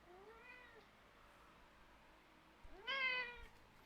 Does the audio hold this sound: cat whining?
yes